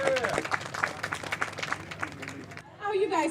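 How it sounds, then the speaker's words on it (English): An audience at a college radio day event gives a round of applause, steady clapping with crowd noise before a voice takes over near the end. "can we give them a round of applause?"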